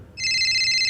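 A phone ringtone starts suddenly and rings in a bright, steady electronic tone that rises above low background hum, coming in through the recording setup during a podcast-style chat.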